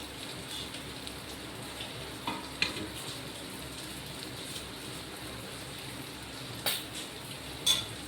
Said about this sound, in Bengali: মাছ হয়ে গেছে, ওই পিঠটা একটু ভাজা হলেই নামিয়ে দেবো।